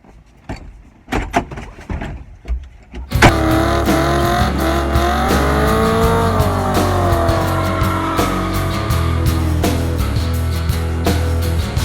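A 1974 Chevrolet Nova engine starts and revs loudly and steadily, a deep sustained roar close by, preceded by a few clunks and door-like knocks.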